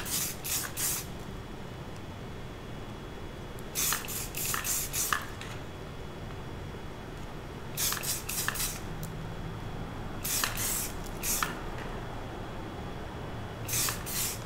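Spray paint hisses onto a cast egg to colour its dragon scales, coming in clusters of short, sharp bursts separated by quiet pauses, close and fairly crisp.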